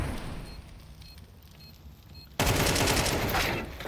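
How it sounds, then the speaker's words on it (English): A burst of rapid gunfire from Valorant erupts loud and dense midway through, following a quieter stretch of faint game ambience. "Shots are spammed."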